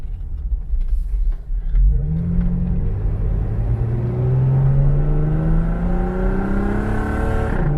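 A 2004 Jeep Wrangler Rubicon with Pro Comp modifications and a fresh air intake revs loudly through its modified exhaust, a deep close rumble that climbs steadily in pitch as the engine accelerates, with no voices.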